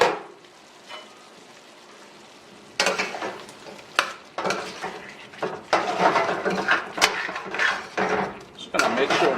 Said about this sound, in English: Just going to make sure and stir this really well.